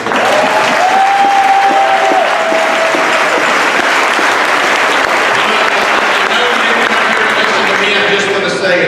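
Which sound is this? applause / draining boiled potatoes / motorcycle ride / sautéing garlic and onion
applause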